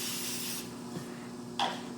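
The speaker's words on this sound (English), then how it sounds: "So shake it up, spray it on, and as you spray it on, let it foam up and let it do its job." Foaming cleaner is sprayed onto Grand Wagoneer woodgrain trim in a steady hissing burst that fades, followed by a brief rubbing sound near the end, heard alone and close.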